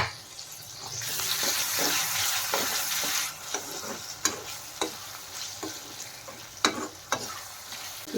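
Ground tomato paste and rock salt sauté in a pan with a soft sizzle, while a spoon scrapes and taps against the pan in short, irregular strokes.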